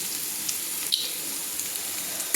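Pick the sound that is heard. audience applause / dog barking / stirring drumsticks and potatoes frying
stirring drumsticks and potatoes frying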